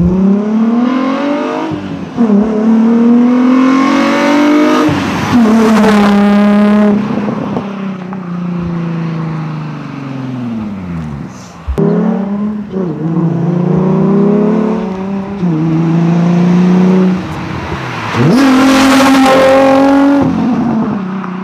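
A Mini GTR with a V6 engine in Need for Speed Most Wanted revs hard and loud, repeatedly climbing in pitch and dropping back between gear shifts, with no voice over it.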